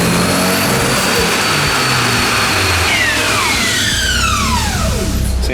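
A turbocharged SR20DE engine in a Nissan Silvia, overboosting on a dyno, revs hard and loud up close, then its pitch sweeps sharply down as the revs fall away.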